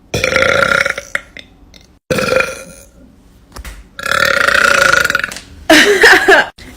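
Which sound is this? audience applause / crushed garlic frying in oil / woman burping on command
woman burping on command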